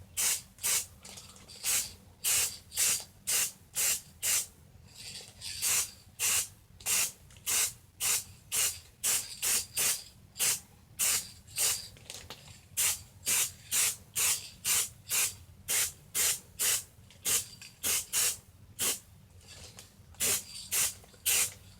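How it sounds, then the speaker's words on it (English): Repeated short bursts of a spray paint can hissing while customizing a cleat, about thirty quick sprays in a steady rhythm, close and fairly loud, with no voices. "what the spray paint feels like when it hits my wrist through a plastic bag"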